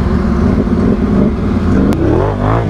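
A Honda ATV engine revs hard as it drives through deep, wet mud, loud and close, its pitch rising and falling in surges throughout.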